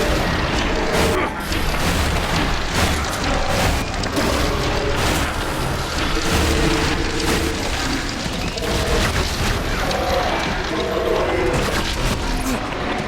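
Gunfire and explosions in the video game Elex 2, a loud dense barrage of bangs, booms and crashes with rapid repeated shots and impacts continuing throughout.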